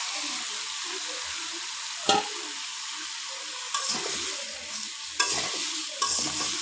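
Raw sweet pumpkin fries in a pan with a steady, close sizzle, broken by a few sharp scraping knocks as it is stirred.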